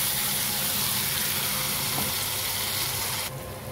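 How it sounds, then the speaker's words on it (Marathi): Steady, loud sizzling of ground spice paste frying in hot oil with cumin, a continuous crackling hiss that drops slightly in level near the end. "जिरा आपला तडतडला तर सगळं मिक्सरमधला मसाला"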